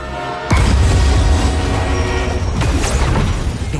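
A runaway train with no working brakes, heading toward tankers, thunders along the tracks with a sudden loud roar and continuous rumbling, clattering mechanical noise, close and overwhelming.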